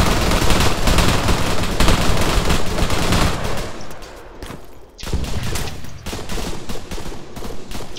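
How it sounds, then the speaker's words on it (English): Dense, continuous gunfire rattles through a military video game firefight in a FolkARPS session, bursts overlapping almost without pause, easing briefly before a renewed volley of rapid shots. "We're taking fire at the moment from the contact to our direct north."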